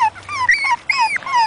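Several puppies in a pen whimper and whine in overlapping high-pitched bursts, close and fairly loud, with a faint low hum underneath at first.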